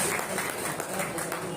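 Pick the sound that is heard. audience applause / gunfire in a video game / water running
audience applause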